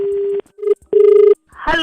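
Telephone keypad dialing: a few sharp electronic tones in quick succession, close and loud, followed by a brief voice.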